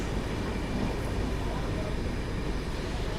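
Aboard a Cherlapalli to Chennai Central superfast express pulling out of Bapatla station, a loud, even rumble of rolling wheels fills the carriage without a break.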